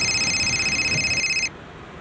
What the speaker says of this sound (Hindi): इस नवीन को फोन लगा तुरंत और पूछ इसने गाड़ी किसको बेची थी।